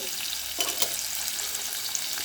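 Urad dal sizzles and crackles steadily in hot oil in a pan while being stirred, a continuous close frying hiss with a few scraping stir sounds and no talking.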